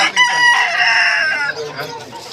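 A rooster crows loudly and close by at a poultry market, a long harmonic call stretching over a couple of seconds with faint market bustle behind it.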